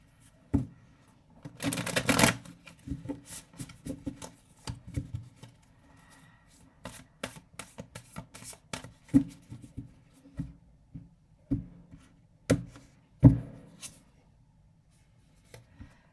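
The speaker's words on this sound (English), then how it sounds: "I forgot to shuffle off camera, so this might take a minute." Tarot cards are shuffled and riffled in bursts of crisp flapping and tapping, close up, with pauses between rounds and no talking.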